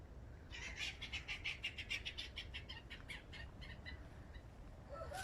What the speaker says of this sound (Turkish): Kuşlar geldi. Kuşlar uçuyor.